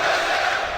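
An esports arena crowd at a Counter-Strike major match in Boston roars in a brief, dense wash of cheering and shouting.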